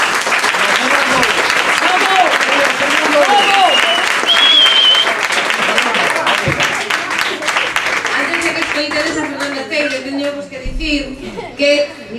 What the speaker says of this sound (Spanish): Queremos que os recibáis con un fuerte aplauso.